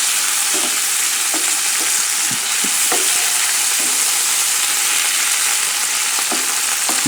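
Salmon and anchovies fry with a steady, loud sizzle in a pan while a wooden utensil stirs them, soft scraping taps breaking through the constant hiss, close up with no talking.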